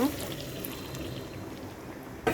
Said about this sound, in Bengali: এখন আমি পর্যাপ্ত পরিমাণে জল দিয়ে দিব।